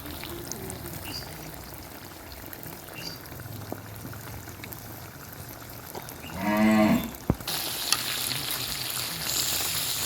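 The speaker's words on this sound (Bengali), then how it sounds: "এখন টক দইটা ঢেলে দিলাম" Sour yogurt goes into a pan of chicken frying for masala: a soft plop followed by a sudden, loud, sustained sizzle, preceded by a low moo-like groan in the background.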